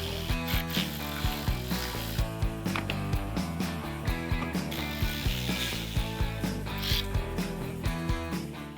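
A ratchet wrench loosens hidden bolts high on the front bumper's wheel-arch cladding of a BYD Shark 6, making a steady run of close, crisp clicks in an even rhythm throughout.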